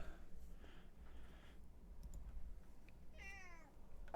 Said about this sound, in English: Oh, that's my cat, guys.